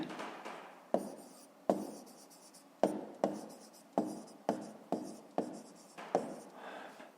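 A pen writes on paper during a maths exercise, making a rhythmic series of scratchy strokes with sharp onsets roughly every half second, close and fairly quiet, with no talking.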